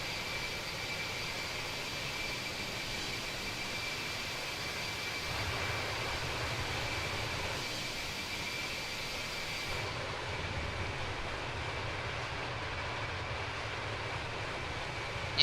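Boeing 777 jet engine in Microsoft Flight Simulator 2024, a steady, even airliner drone with a broad rushing hum that stays constant and moderately quiet throughout.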